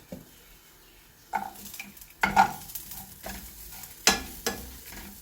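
Coconut and shallots frying in a pan, with bursts of stirring and scraping against the pan over a low, steady sizzle. No one speaks.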